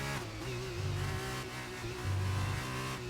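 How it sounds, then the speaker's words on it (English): F2 race car engine in a racing video game, steady buzzing drone with pitch dips as the driver goes on and off the throttle, continuous and fairly loud with no talk. "Being really easy on the throttle. You can hear him on and off, on and off."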